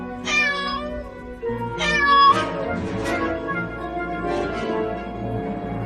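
A cartoon kitten meows several times in high, drawn-out cries, close and clear, with a faint background bed underneath.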